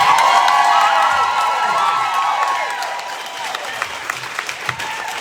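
Political rally crowd at a campaign stop applauds and cheers for a Democratic Senate nominee, dense clapping with whoops and shouts that gradually thin out into scattered claps over a few seconds.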